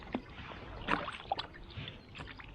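A hand-carved Greenland paddle strokes through water from a kayak, making soft swishes and light drips. The gurgles come in a gentle rhythm, faint and close by.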